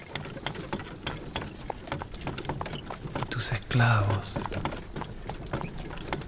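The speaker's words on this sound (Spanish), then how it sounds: "Dos caballos tiran de este carro." Two horses pulling a carriage give a quick, steady patter of hoof clops that runs right through, with a brief louder low rumble near the middle and a voice speaking over it.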